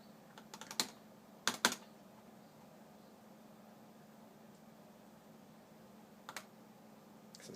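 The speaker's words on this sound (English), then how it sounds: "It says click row to get prescription. I am clicking the row." A computer mouse clicks on a row in prescription-renewal software: a few soft, sharp clicks close together near the start, a pair around the middle and one more later, over a faint steady room hum.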